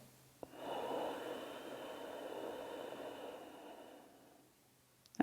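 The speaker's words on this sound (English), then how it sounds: "And really empty the lungs of the breath." A single long deep exhale pushes air out of the lungs, a soft breathy rush that swells quickly and then fades gradually over several seconds, close and quiet, with no talking.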